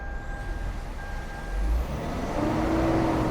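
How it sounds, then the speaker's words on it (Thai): A 2019 Mitsubishi Pajero 2.4 GT Premium diesel SUV starts and idles with a stock exhaust, a low, rough rumble close by, growing a bit louder and heavier partway through. "อันนี้เป็นเสียงเครื่องเดิมๆนะครับเสียงเครื่องเดิมๆเลยนะครับ"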